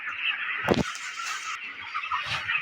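Broiler chickens crowd a poultry shed in winter, a dense steady chorus of clucking and chirping with one sharper, louder squawk partway through, close and continuous with no talking.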